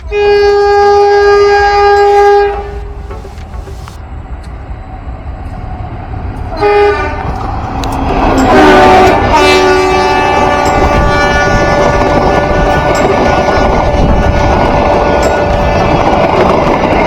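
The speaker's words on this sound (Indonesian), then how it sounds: "kita akan menyaksikan kereta api yang melintas di bawah jembatan layang ini dari Pariaman menuju Padang" Sibinuang passenger train passes beneath a toll-road flyover on the Pariaman–Padang line, sounding a loud sustained horn, a second horn blast, then rolling close by with a rumbling, clattering roar of wheels and carriages.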